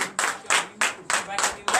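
A church congregation in Benin claps in quick rhythmic bursts, about six loud pulses of many hands close together, with voices acclaiming mixed into the clapping.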